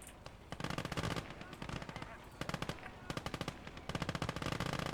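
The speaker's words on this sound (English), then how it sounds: "the Kubelwagen can now open fire" Machine gun fire from a Kubelwagen in the game Call to Arms: Gates of Hell, several rapid sustained bursts separated by short pauses, crisp and fairly close.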